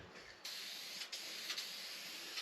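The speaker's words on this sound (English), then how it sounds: "We're just going to spray that on it first to get it sealed up." Sealer is sprayed onto the body of a Chevrolet Blazer during rust repair, a close continuous hiss that starts abruptly and runs on with two brief breaks where the spray trigger releases and resumes.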